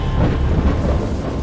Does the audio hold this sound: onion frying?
no